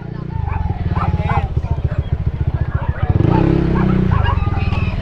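A motorcycle rumbles close by at an outdoor animal market. Its engine throbs steadily, then swells louder and rougher around the middle as it passes.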